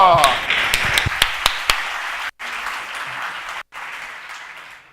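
A talk audience starts with a few scattered, sharp claps that swell into a full burst of applause, steady and close, broken by two short gaps.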